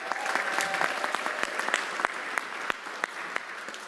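An audience at a school gathering applauds in a dense, steady wave of clapping, with a few sharper individual claps standing out.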